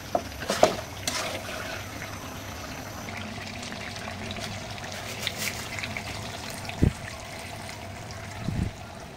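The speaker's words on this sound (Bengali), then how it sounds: "এই পর্যায়ে আমি গরম পানি রাখছি, গরম পানি দিয়ে দিলাম।" Hot water is poured into a pot of cooking beef curry, giving a faint, soft trickle and splash with a few brief louder spills over a quiet kitchen background.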